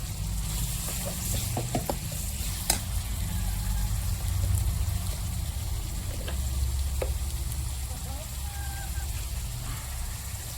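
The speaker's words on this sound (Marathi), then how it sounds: "कढीपत्ता टाकला." Curry leaves sizzle and fry in a hot pan, a steady crackling hiss with a few sharp clinks of stirring, under a low background rumble.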